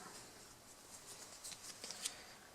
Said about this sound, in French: je vais piocher une carte événement